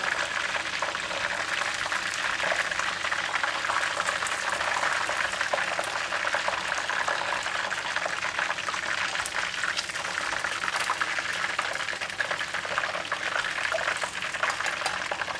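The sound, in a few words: chicken frying in hot oil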